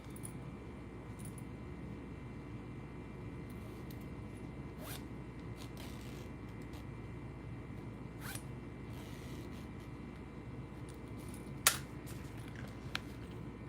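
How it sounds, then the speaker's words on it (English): A zipper being tested on a handmade wristlet, with brief scattered zipping strokes that stand out faintly over a steady background hum, no talking. "And then I also like to test my zippers."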